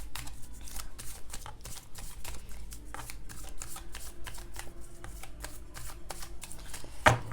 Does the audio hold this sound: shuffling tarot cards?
yes